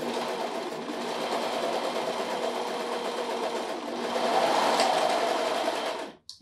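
A serger sewing machine runs steadily, stitching the short end of a fabric cardigan neckband, its fast whirring drone constant and close for about six seconds before stopping abruptly.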